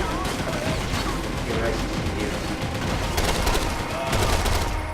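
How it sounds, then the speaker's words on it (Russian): Machine gun fire in the video game Max Payne 3, sustained rapid bursts of shots layered over a loud, dense game soundscape, with someone speaking over the action. "Это что-то пулемет."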